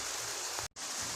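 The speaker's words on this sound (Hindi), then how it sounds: "तो बारिश हो रही है, उसी की आवाज़ आ रही है।" Steady rain falls at night as a soft, even hiss of drops, faint and continuous, with a brief dropout in the middle.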